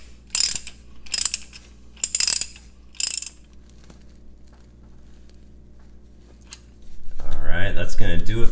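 Ratchet wrench with a 9/16 socket tightening differential cover bolts on a new JL Jeep Wrangler front Dana 30, four short bursts of clicking a second apart, close, then a louder mechanical whir near the end.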